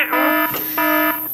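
Two loud, harsh electronic alarm buzzes in quick succession, each about half a second, with a brief gap between them.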